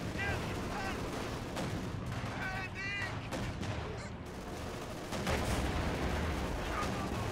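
Panzerwerfer rocket artillery firing in Company of Heroes 2, an Ostheer battle scene: dense rolling barrage of launches and blasts with continuous gunfire and explosions, loud throughout and heavier toward the end.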